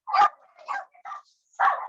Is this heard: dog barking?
yes